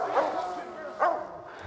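Hunting dogs barking at a raccoon up a tree on a cloudy full-moon night hunt, two sharp barks rising over steady outdoor background noise, with someone talking nearby.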